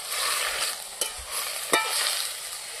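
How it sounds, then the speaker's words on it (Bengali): Spinach with small prawns stirred in a hot pan for a village-style curry, continuous close sizzle broken by a couple of sharp spatula knocks against the pan. "নাড়তে নাড়তে দেখুন সব ঝেমে যাচ্ছে"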